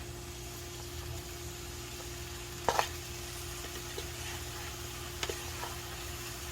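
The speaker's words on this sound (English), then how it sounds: "You hear the sizzling? That's what I wanted to hear." Steady, low sizzling of hotdogs frying in a pan over a constant background hum, with a couple of faint clicks and taps.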